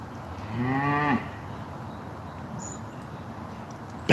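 A single cow gives one drawn-out moo up close, lasting about half a second, and then a quiet outdoor background holds on a morning walk.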